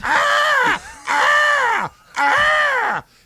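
A person imitates crows, giving three long, loud, harsh caws in a row, close up, with brief pauses between them.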